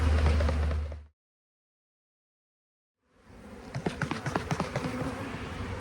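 Honey bees shaken in a mite-monitoring cup buzz in a dense, agitated drone close by. A low hum is followed by a gap of silence, then renewed buzzing with rhythmic tapping pulses.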